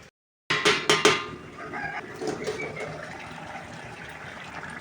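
Lid placed over a cooking pan of tomato and fried-fish curry, a quick run of close metallic clanks and rattles, followed by a softer continuous bubbling simmer.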